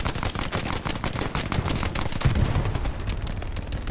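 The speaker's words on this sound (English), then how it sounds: "I don't know where they're shooting from." Dense World War II gunfire in the game Hell Let Loose: continuous overlapping rifle and machine-gun bursts at varying distances, loud and relentless throughout with no talking over it.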